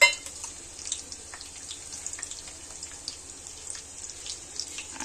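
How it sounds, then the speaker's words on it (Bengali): Onions and garam masala sizzle in hot oil on a stovetop, a steady soft frying hiss with scattered crackles running throughout, fairly quiet and with no talking. "চুলায় তেলটা গরম করে আমি প্রথমে যে পেঁয়াজ তারপরে গরম মশলা এগুলো দিয়ে দিলাম"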